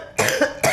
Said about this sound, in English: I'd like to thank you, but I'm too busy coughing.